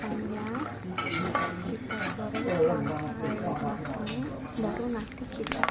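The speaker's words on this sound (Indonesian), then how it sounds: "Nah kemudian ini aku goreng kacangnya, kita goreng sampai" Peanuts fry in a pan for a cilok sauce, giving a steady sizzle and crackle with scraping as they are stirred, while a person talks over it.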